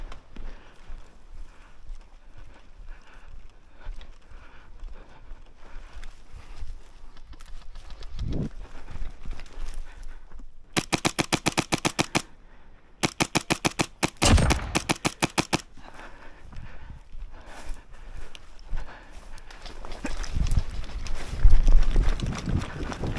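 Rapid bursts of automatic gunfire in a video game battle crackle loudly in several clusters, set against a steady bed of in-game ambience with scattered thuds and footsteps.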